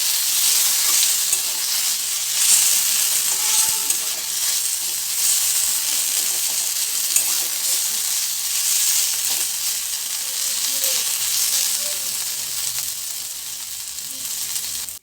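Onion frying with ginger, garlic and chili paste in a pan, a loud, continuous close sizzle and hiss with occasional soft stirring scrapes throughout.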